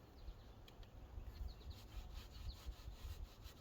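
A sock pulled over a gloved hand rubs wood stain up and down a wooden railing spindle, making soft, faint, repeated scuffing strokes in a quiet setting.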